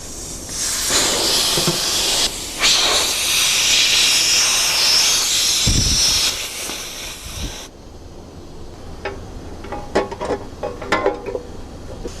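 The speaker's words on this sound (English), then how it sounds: "this bank, is these two holes that are leaking air at this moment" Compressed air hissing loudly from two leaking holes in an air block, a strong steady hiss that stops abruptly partway through, followed by scattered small clicks and taps in a quieter background.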